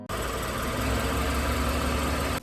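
A car engine drones steadily while driving on a highway, a loud, constant rumble with a faint knocking texture and no pauses or voices.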